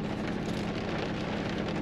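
Steady, dense heavy rain hissing and pattering across a surface during truck camping, continuous and fairly loud with no voices.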